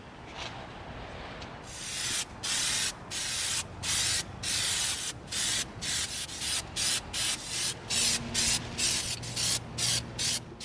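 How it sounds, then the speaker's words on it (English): Plastidip rubber coating is sprayed from an aerosol can onto an EVA foam ray gun prop in a rapid series of short, loud hissing bursts, close up and with no speech. "We're going to coat our ray gun with our Plastidip, and then it's going to be ready to paint."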